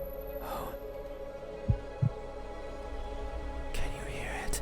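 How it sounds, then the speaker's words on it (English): A heartbeat effect in the video game (Don't) Open your Eyes: two soft low thumps in quick succession over a steady hum, with faint murmuring voices around it. "Sounds like a heartbeat. Definitely a heartbeat."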